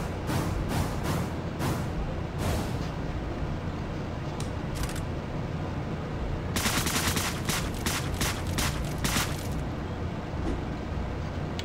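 Rapid, dense bursts of gunfire in the video game Deadbolt, with shotgun blasts and repeated sharp reports packed over a constant noisy game backdrop and no talking.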